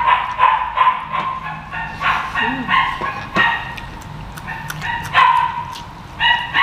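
Close, loud barking from a dog comes in rapid repeated bursts mixed with higher yips and a brief whimper, continuing with only short gaps throughout.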